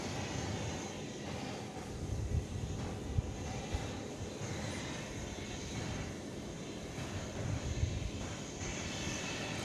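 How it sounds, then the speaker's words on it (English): Engines of a UPS heavy cargo jet roar steadily at night at Dallas Fort Worth as it departs from runway 18 right, a continuous broad drone at middle distance with faint pulsing and no voices. "UPS 793 Heavy is ready for departure."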